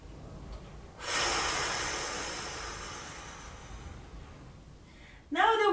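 A slow, deep breathing exercise: a soft, close breath followed by a long, steady exhale that fades gradually, then a short voice at the end.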